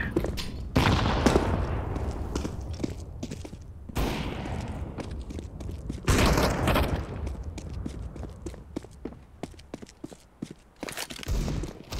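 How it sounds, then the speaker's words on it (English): Gunfire and grenade blasts in the shooter Metro Exodus: loud booming bursts at intervals, one around the middle and another heavier one soon after, amid rattling shots, clattering footsteps and scattered impacts. "Throwing a grenade."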